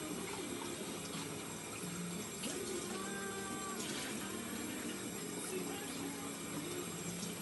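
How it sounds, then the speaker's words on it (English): About half a cup of water pours into a pot of homemade chili, a soft, steady trickle and splash heard faintly across several seconds. "So we're going to add half a cup more water."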